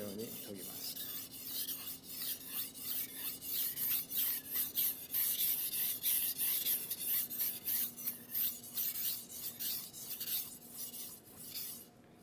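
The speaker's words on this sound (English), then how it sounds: "Sharpen the top side of a slicer the same way as a chef knife." A slicer knife is hand-sharpened on a whetstone, making rhythmic rasping strokes in a steady back-and-forth pattern, each a gritty scrape, close and moderately quiet, with no talk.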